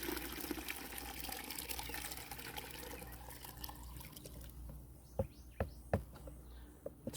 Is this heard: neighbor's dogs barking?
no